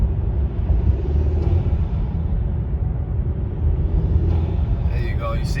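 An Audi A6 C7.5 turbo fitted with a cold air intake, driving on a snowy Chicago road, gives a steady low engine and road rumble with faint turbo whine, while a person talks over it.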